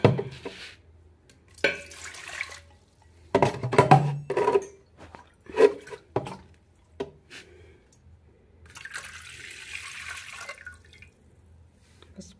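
Water poured from an opened gallon jug into a cooking pot at home, heard as a few short splashing and trickling bursts separated by pauses and small handling knocks, fairly close and moderately loud, with no talk.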